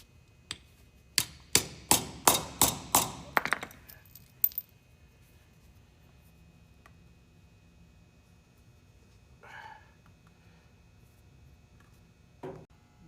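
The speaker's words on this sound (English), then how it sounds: "we insert and secure the bolts for the splicing" Metal bolts dropped and fitted into an elevator belt splice, a quick run of sharp clinking metallic hits, then quiet with a faint shuffle and one more clink later.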